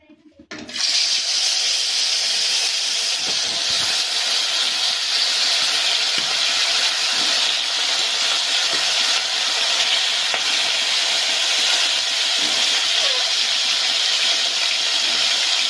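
Katla fish pieces dropped into hot oil in a wok, setting off a loud, steady sizzling hiss that starts abruptly and holds on evenly, close up and without talk.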